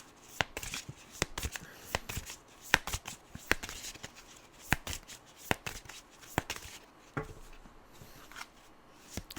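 Tarot cards are shuffled by hand in a series of sharp, crisp riffles and snaps, some louder than others, with quiet soft rustling between, close and without voices.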